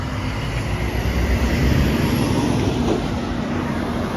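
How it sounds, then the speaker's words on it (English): A noisy truck rumbles loudly past at close range on a small-town street in Bennington, New Hampshire, with a broad, steady roar that swells slightly in the middle and stays strong throughout. "Here comes a noisy truck."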